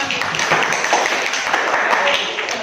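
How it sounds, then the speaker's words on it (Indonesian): Students in an Indonesian school lesson on the Quran and caring for the environment give a round of applause, a brisk, close, even patter of many hands clapping with no talk over it. "Tepuk tangan."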